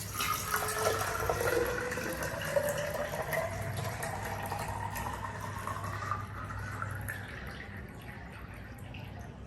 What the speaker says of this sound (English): So I'm going to fill this water in the cylinder.